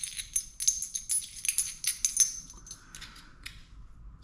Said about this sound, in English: So, and they even sound like coins.